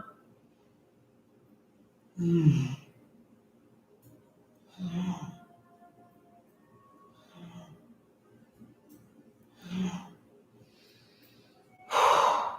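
Slow, deliberate breaths during yoga practice, each inhale and exhale heard as a soft breathy rush, arriving about every two to three seconds in a steady rhythm, close and fairly quiet.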